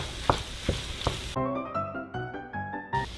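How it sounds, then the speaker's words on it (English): Seasoned ground beef browning in a pan, stirred with a few scraping clatters and a crackling sizzle, which gives way to a short musical jingle. "Now we're going to stir that into the mix and let it cook until it's browned"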